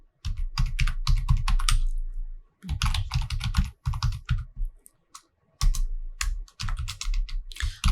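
Someone types code on a computer keyboard in quick bursts of loud, close key clatter, broken by short pauses.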